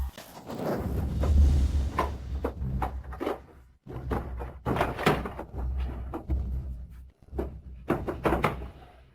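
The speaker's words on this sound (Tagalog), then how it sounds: "Yung tunog ng pagbubukas mo ng drawer, hindi ba pwedeng hinay-hinay lang?" A drawer or cupboard being pulled open and shut indoors, with repeated wooden thunks, slides and knocks spread over several seconds at moderate loudness, alone without talk.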